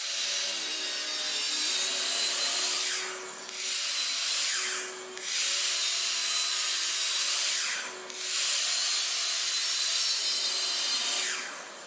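Miter saw cutting wood boards for a bathroom towel rack shelf: three separate high-pitched whining cuts with short pauses between them, loud and close, with no talk.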